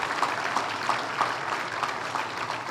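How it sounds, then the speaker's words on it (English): An audience at a regional chamber awards ceremony applauds, steady dense clapping that fills the room and carries on without a break, no voices over it. "please give them a round of applause"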